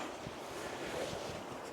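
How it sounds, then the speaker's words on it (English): Steady outdoor wind rushing and buffeting at a mountain campsite in Monongahela National Forest, with low gusty rumble across the whole stretch and no talking. "the wind is picking up a little bit,"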